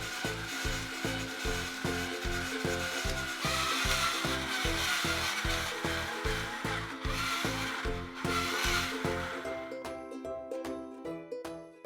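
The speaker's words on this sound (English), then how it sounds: "I'll go ahead and start the fun part of shaving the ice and making snow" An ice shaver grinds a block of ice into snow for Taiwanese shaved ice, making a loud rhythmic scraping with a steady pulsing motor hum, close up, before winding down near the end.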